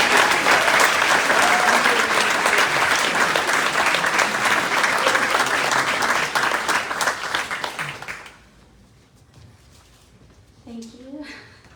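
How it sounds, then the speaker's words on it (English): An audience applauds a teacher honored at a top teacher award ceremony, with sustained, loud clapping that fades out after about eight seconds, followed by a voice speaking into the quiet room. "Let's give a round of applause to Joy for her nearly 2 decades."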